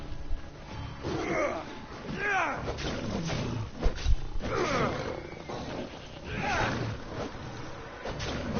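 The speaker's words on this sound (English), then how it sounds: "It's a freaking lion!" Lions roaring in the video game Assassin's Creed, several deep rumbling snarls and roars rising and falling across the stretch, loud and close, alongside game noise and a faint gasp.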